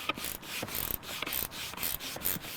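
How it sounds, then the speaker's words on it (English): A nut is tightened onto the mounting bolt of a Dometic RTX 2000 12V rooftop air conditioner on a Winnebago Revel, producing rhythmic ratcheting and rubbing strokes repeated about every half second, close and moderately loud. "let's go ahead and tighten down on the nut, not the bolt."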